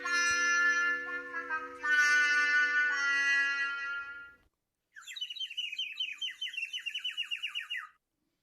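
Bird chirping in a park, a series of bright repeated tweets and trills following a sustained harmonic tone, close and clear with no talking.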